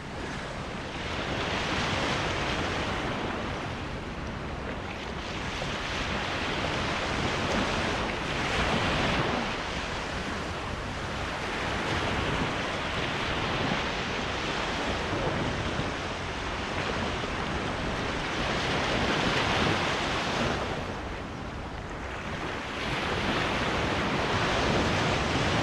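Sea waves break on the shore in a continuous, fairly distant rush, with gusts of wind buffeting the microphone and no voices.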